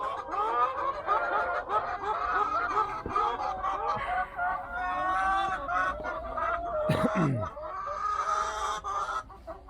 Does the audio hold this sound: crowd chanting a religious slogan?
no